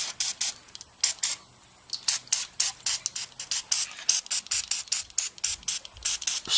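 Repeated short hissing bursts of cleaner sprayed onto a Craigslist minibike engine during repair, quick pumped spritzes in an uneven rhythm, close and crisp with no talking.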